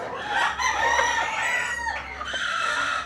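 A young broadstag rooster, a Quadro Gilden Bky cross, crows close by in one long drawn-out call.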